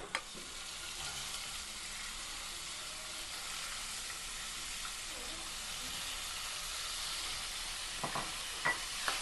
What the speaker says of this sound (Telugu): ఆనియన్ లైట్ బ్రౌన్ వచ్చే వరకు ఫ్రై చేసుకోవాలి.